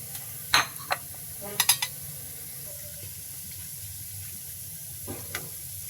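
Coconut pitha frying slowly, a low hiss of oil broken by a few sharp clinks and taps of a spatula, quiet and without talk.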